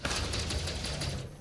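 Rapid turret gunfire from a ship in Elite Dangerous rattles in a dense, continuous burst for over a second before tapering off, with no talk over it.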